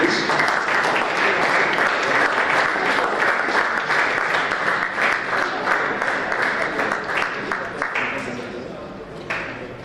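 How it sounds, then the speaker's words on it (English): Audience applause at a literature festival as a guest is called onto the stage: dense, loud clapping from a large crowd that holds steady for nearly ten seconds before easing slightly at the end. "Big round of applause to Ritvik ji, please."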